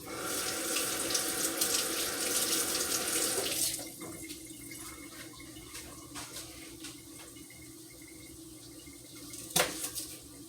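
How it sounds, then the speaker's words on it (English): A kitchen tap runs hard while onions are rinsed under it, a loud, steady splashing stream that drops to a softer trickle partway through. "Rinse my onions off."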